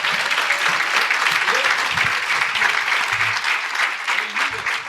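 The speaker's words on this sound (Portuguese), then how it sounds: "Pode te aplaudir a você mesmo por estar aqui" A congregation applauds itself, with dense sustained clapping from a large crowd filling the room loudly and steadily, and a few faint murmurs underneath.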